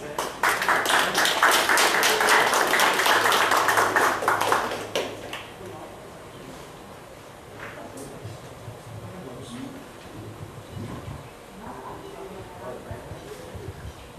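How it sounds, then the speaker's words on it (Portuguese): An audience at a morning poetry gathering breaks into lively applause for about five seconds, many hands clapping close and loud, then it stops and a voice begins speaking over quiet room noise. "Palmas aí"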